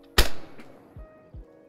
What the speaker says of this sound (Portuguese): Ui, passou mesmo ao lado o tiro